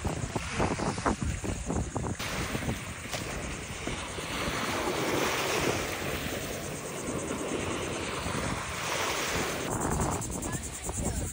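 Ocean surf washes up on a beach, a broad steady roar of waves mixed with heavy wind buffeting the microphone, continuous and fairly close with no talking.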